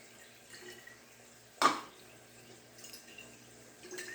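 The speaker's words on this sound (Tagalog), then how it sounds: "Parang lagyan ko siguro ito ng tubig pa." Water is poured into a pan of cooking bitter gourd as a single short splash in an otherwise quiet kitchen.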